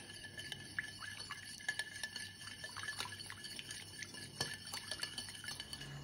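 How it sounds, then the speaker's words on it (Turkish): A spoon scrapes and clinks against a bowl while red pepper powder is stirred into a sauce, giving quiet, irregular taps and swishes close by with no voices. "Bunları güzel bir şekilde karıştırıyoruz."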